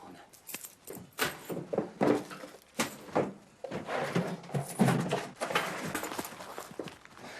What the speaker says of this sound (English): Where are the keys? Give me the keys.